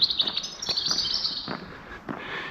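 Birds chirp and sing from trees just overhead on a still, warm night, a steady high twittering with several sharper calls spaced through it, fairly close and clear.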